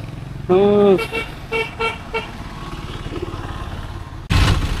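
Street traffic jammed near the temple at Tiruchendur, a loud car horn blaring near the start, then shorter toots and engine rumble, with another burst of noise at the end.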